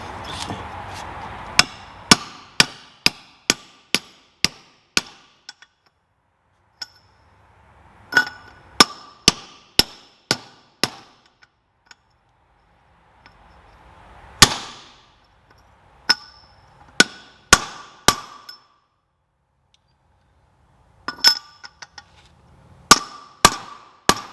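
A socket is hammered to drive a wheel bearing race into a PJ 10K landscape trailer hub, producing a series of sharp metallic strikes, often in quick bursts of several blows, with short pauses between groups.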